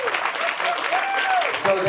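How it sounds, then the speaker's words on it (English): A crowd at a charity capital campaign fundraiser breaks into applause, brief clapping mixed with cheers and voices, heard alongside talking. "How about a big round of applause for that?"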